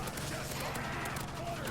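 AK rifle fire in a Nuketown zombies shooter game: a dense, continuous burst of automatic gunfire with rapid repeated cracks, loud and close, over a steady noisy wash with no clear talking.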